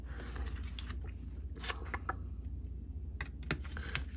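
Scissors snip paper in a series of quick, sharp clicks and crisp cuts against a low background hum.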